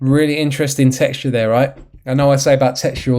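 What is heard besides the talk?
No everyday noise stands out behind the speech.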